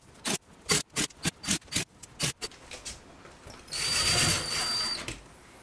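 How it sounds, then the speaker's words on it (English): Power driver running screws into a mobile home interior storm window: a string of short, sharp whirring bursts, then one longer sustained whine up close. "I'm going to go around and go ahead and put all these screws in"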